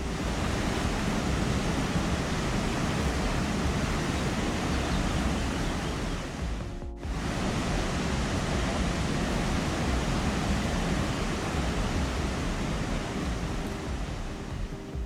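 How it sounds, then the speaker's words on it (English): The HSBC Rain Vortex, a tall indoor waterfall at Singapore's airport, roars as a dense, continuous rush of falling water, loud and unbroken apart from one momentary dip, with no talking. "The waterfall runs continuously day and night, rain or shine, so everyone can witness it flowing at any time."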